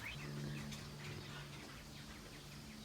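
Pet birds chirping and cooing softly at feeding time, faint calls scattered over a steady low background hum, with no talk.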